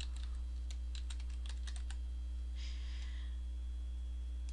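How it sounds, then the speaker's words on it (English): Someone types on a computer keyboard in a rapid run of light clicks, then a short pause and a brief rustle, all at low level over a steady electrical hum. "go ahead and click in the black area and then type with your keyboard"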